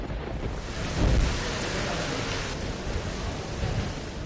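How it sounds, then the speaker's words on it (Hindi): Monsoon rain pours steadily with thunder, a broad hiss that swells with a low rumble about a second in and carries on evenly to the end. "मुल्क के मुख्तलिफ हिस्सों में मानसून के बादल गरज चमक के साथ बरस रहे हैं"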